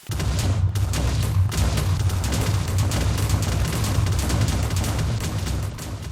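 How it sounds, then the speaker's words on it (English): A huge TNT detonation in Minecraft, with a dense, continuous roar of rapid explosions blasting through an End City, loud and sustained throughout with no talk. "I was expecting that explosion to reach the main structure."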